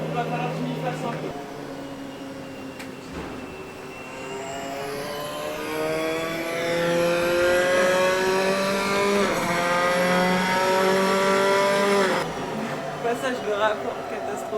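A Formula 4 car engine in a racing simulator revs and climbs through gears, rising in pitch with abrupt shift breaks, while someone talks over it.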